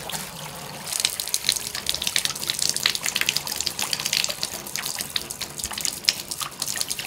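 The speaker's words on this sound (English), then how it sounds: "And there's the extra water going down our finished drain." Water drains down a newly fitted sink drain, a gurgling, splashing flow with irregular bursts and drips, fairly close and continuous throughout.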